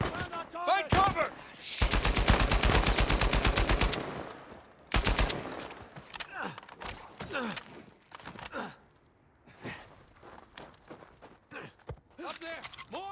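Gunfire erupts in a sniper ambush in Uncharted 4: a loud, rapid burst of automatic fire runs for about two seconds, then scattered single shots follow, amid grunts, gasps and footsteps from the characters.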